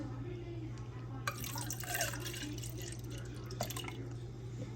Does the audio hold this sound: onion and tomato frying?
no